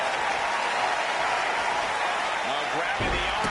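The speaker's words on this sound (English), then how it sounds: "this crowd is on their feet in full appreciation" Wrestling crowd at a G1 Climax event applauding and cheering on its feet, a dense, steady roar of clapping and voices filling the arena throughout.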